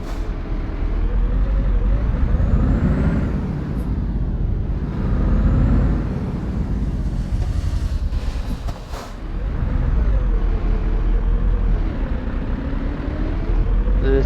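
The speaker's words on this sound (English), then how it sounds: "This is a big powerful Scania, this one, because she's just pulled away on 5th." Scania truck pulling away in Euro Truck Simulator 2: a loud, deep diesel engine drone that rises and falls through gear changes, with a brief hiss partway through and a dip before the engine builds again.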